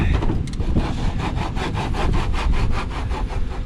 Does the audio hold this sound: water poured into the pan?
no